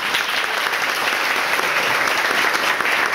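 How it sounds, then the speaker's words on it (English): Dense, steady applause from an audience at a morning gathering in a new restaurant, loud and continuous throughout with no break or voices rising above it. "please give a round of applause for Ricky Debler"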